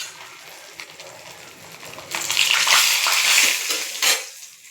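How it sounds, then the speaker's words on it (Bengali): Fish dhoka pieces going into a wok of a little mustard oil, the sizzle swelling loud and bright after the first couple of seconds with a few utensil clinks, no talking. "কড়াতে তেল দিয়েছি, অল্প করেই দিয়েছি সর্ষের তেল। এবারটা ছেড়ে দিলাম, মাছের ধোকাটা ছেড়ে দিলাম।"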